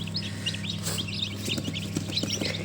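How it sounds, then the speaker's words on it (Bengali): Newly hatched multi-coloured tiger chicken chicks cheep continuously. Dense, overlapping high peeps sound close and lively over a low background hum. "এই যে সবগুলো কিন্তু মাল্টি কালারের টাইগার মুরগির বাচ্চা"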